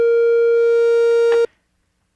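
A steady Novation Bass Station II synthesizer tone, oscillator 1 full and oscillator 2 at about 25%, with layered harmonics holds for over a second, then cuts off abruptly, followed by brief quiet and a short click.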